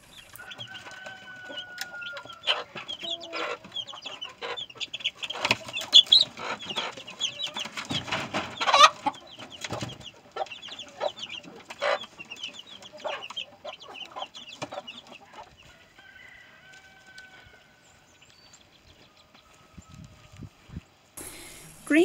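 Chickens being fed picked greens in winter cluck and squawk on and off, a busy mix of calls rising and falling, louder in the middle and quieter toward the end.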